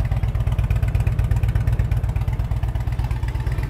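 A 2007 Harley-Davidson Electra Glide Classic motorcycle idles close by with a steady, loping low rumble of even pulses and no voices.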